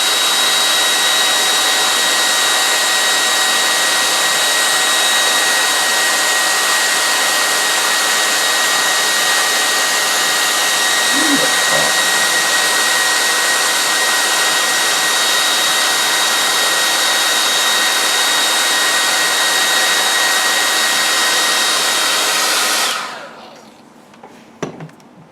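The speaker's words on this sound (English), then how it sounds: "So I'll use my hair dryer here to speed things along a little." Hair dryer blowing on wet paint, a loud, steady whooshing motor roar running for over twenty seconds before cutting off abruptly, leaving near silence.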